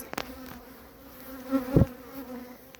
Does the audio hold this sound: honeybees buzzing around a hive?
yes